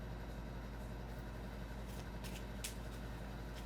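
A very small deck of playing cards is shuffled in quiet, soft continuous rustling and riffling, close and faint, with no talk.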